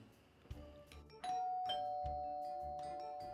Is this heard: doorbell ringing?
yes